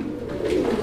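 A pigeon at a pigeon market gives a short, soft, low coo, close by and alone, lasting under a second.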